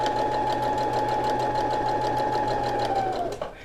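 A sewing machine stitching a quilt seam runs with a steady, loud, even mechanical whir and rapid needle chatter, then slows and stops near the end.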